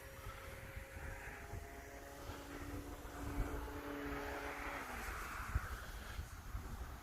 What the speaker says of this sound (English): She's flying really nice today. Nice and low.